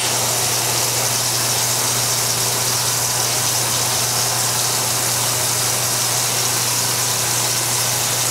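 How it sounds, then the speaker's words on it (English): An old electric water pump, roughly fifteen years old, runs with a steady loud mechanical drone and a constant hiss of water flowing, unbroken from start to finish with no voices. "We should start seeing water flow up out of here if 15 years later this pump is still working."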